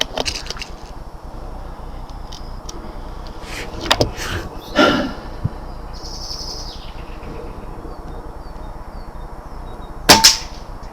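A Daystate Air Wolf air rifle fires pellets outdoors, giving a few sharp, isolated cracks spread over a quiet background with faint ambient sounds between shots.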